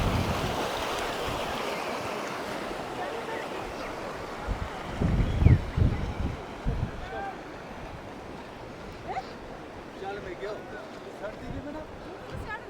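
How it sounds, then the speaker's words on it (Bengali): Waterfall-fed stream water rushes steadily near Thajiwas glacier in Kashmir, a constant broad hiss mixed with wind buffeting the microphone. People talk over it now and then. "এগুলো সব ঝর্ণার পানি"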